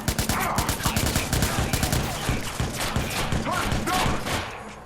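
Rapid bursts of gunfire from the video game Watch Dogs, loud and dense, with repeated shots and volleys filling the whole stretch, and a voice briefly under the shooting.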